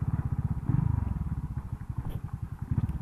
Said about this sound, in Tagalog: Yung motor na yan, yung salubong natin.